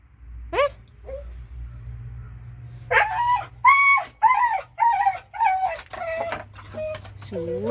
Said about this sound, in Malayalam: അത് ഇങ്ങോട് പട്ടിപ്പോയാണ് കിടന്ന് കുരയ്ക്കുന്നത് കേട്ടോ